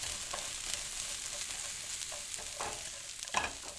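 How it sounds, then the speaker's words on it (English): Chopped spring onion frying for two minutes in two tablespoons of oil in a warm frying pan for egg fried rice, a soft constant sizzle broken by light scraping and stirring clicks. "add 2 tablespoons of oil, chopped spring onion, fry for 2 minutes"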